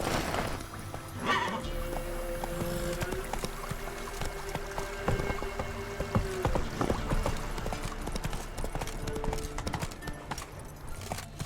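Rhythmic hoofbeats of the horse Roach galloping steadily in The Witcher 3: Wild Hunt, with a brief whinny near the start and a bed of game music and ambience running underneath.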